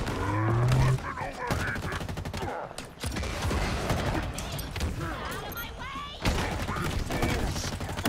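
Game gunfire in Halo Infinite: dense, continuous bursts of shots and impacts across the whole stretch, loud and busy with combat noise, with a brief lull near the middle before the firing surges back.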